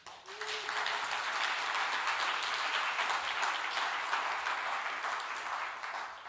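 Sustained audience applause fills a conference hall at an annual economics conference, a dense, even wash of many hands clapping at steady loudness throughout, fading slightly at the end.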